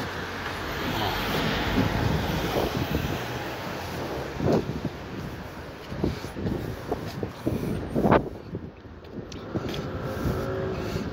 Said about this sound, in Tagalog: May aeroplano.